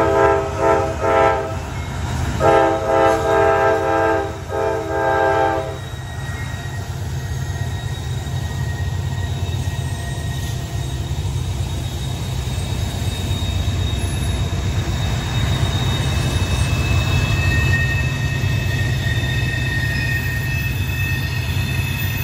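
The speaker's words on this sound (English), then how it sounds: "There's a westbound Norfolk Southern coming up the hill to the summit of the Alleghenies at Gallatin." A westbound Norfolk Southern freight train climbing Horseshoe Curve in the Alleghenies rumbles past steadily with a horn blast near the start, then a long continuous roll of wheels and cars, loud and close.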